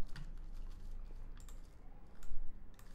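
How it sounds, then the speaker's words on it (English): An email address is typed on a computer keyboard as a steady run of light key clicks over a low hum, with a slightly louder burst of taps near the end. "I want to type admin@email.com."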